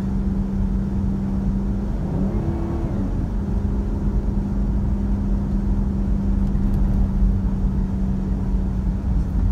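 A 2005 Kia Carnival with a V6 petrol engine runs steadily, a loud, close, even hum with a constant low drone and a brief rise partway through, and no talk over it.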